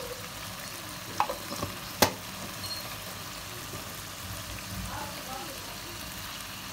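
Meat frying in oil while stirred for palak gosht, a steady close sizzle with a few sharp scrapes of a spoon against the pan; no one speaks.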